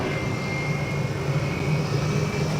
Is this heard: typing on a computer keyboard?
no